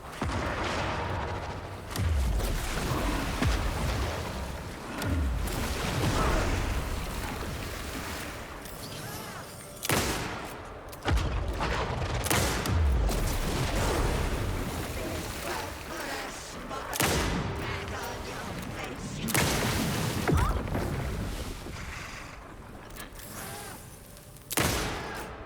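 Rifle gunfire in the video game Alan Wake 2: repeated loud shots with booming echoes run almost continuously, broken by brief gaps.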